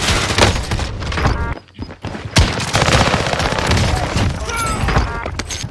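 A VLK shotgun fires on rapid fire in a video game, with dense overlapping blasts in a loud, continuous fusillade. There is a brief lull partway through before the shooting resumes.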